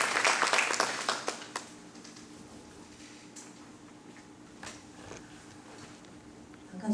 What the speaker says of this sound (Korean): 이제 김희영 강사님 나오실 때 큰 박수로 환영해 주시기 바랍니다.